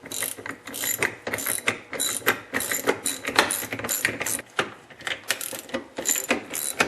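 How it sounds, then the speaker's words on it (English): Ratchet tightening bolts on the drive ring of a Craftsman snowblower during a repair; rapid, close clicking in bursts with short pauses, bright metallic ratcheting under steady mechanical rattle, no talk. "And now tighten up the bolts evenly."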